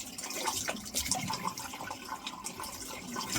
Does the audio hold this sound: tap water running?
yes